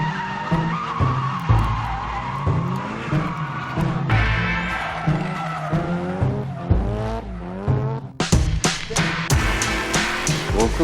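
A car drifting and spinning out in a Tokyo Drift stunt, tires squealing in long wavering skids over engine roar, loud and close, ending in sharp screeching bursts.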